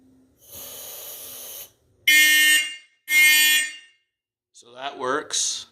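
A vintage Simplex fire alarm blares during a detector test, one buzzing pulse followed by two louder harsh horn blasts, then a short breathy vocal noise and a final squeal.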